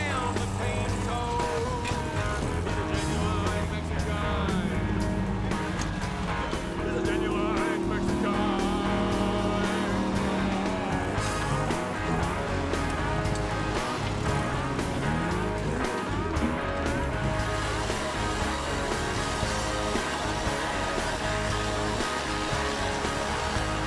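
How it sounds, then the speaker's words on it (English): Modified 4x4 four-wheel drives put on a demonstration at an agricultural show, engines droning and revving loudly and continuously across the whole stretch, with a voice talking faintly underneath. "the team from Superior Engineering pulled in a stack of well-prepared four-wheel drives for a spectacular presentation of what modified 4x4s can do"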